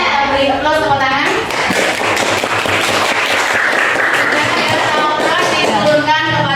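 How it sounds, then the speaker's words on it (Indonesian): A classroom group gives a round of applause, dense and loud hand clapping from many people sustained throughout, with voices mixed into the clatter. "Beri aplaus tepuk tangan."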